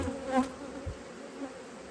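Honeybee swarm buzzing close by in stormy weather, a steady low drone with a short louder flare of individual bees passing near early on, no voices over it.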